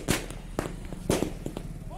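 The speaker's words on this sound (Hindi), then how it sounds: "जो समर्थक हैं वो आतिशबाजी करते हुए," Celebrating political supporters set off firecrackers outdoors, a sequence of sharp, crackling bangs at irregular intervals against a background murmur of crowd noise and voices.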